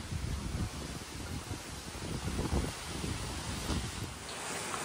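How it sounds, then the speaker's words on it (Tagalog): Strong wind roars steadily with gusty buffeting against the microphone, a broad constant rush with no voices. "Lakas ng hangin."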